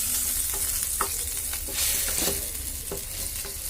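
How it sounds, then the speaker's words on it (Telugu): Pepper chicken frying in a pan without onions, a dense hissing sizzle with soft scraping stirs and occasional spatula knocks, close and steady, with no one talking. "మేము బాగా ఫ్రై చేసుకుందాం"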